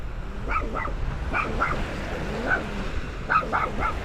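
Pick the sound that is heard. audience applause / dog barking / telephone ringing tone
dog barking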